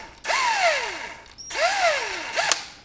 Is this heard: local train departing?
no